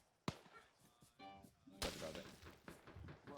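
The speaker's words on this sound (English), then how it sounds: "We got suppressing fire" Suppressing gunfire rings out during a military field training exercise: a sharp distant shot, then a louder report that trails into rumbling echo and ongoing fire, with faint voices underneath.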